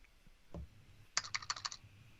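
A short burst of computer keyboard typing, several quick clicks in a row, fairly close, after a single soft thump; no talking.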